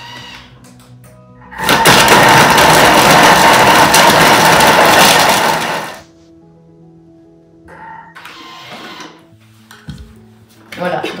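A Thermomix minces meat at speed 6, a loud, harsh whirring blast of about four seconds that stops abruptly, followed by quieter kitchen clatter and someone talking.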